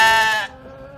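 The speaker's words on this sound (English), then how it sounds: "the Black Welsh mountain sheep at the zoo are certainly ready for it as well" A Black Welsh Mountain sheep at a zoo gives one loud, close bleat lasting about half a second, then trails off into a faint tail.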